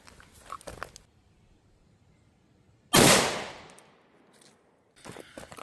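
A single 5.7x28 FN full metal jacket round fired into ballistic gel gives one sharp, loud report with a decaying tail, set between quiet stretches with faint shuffling before and after.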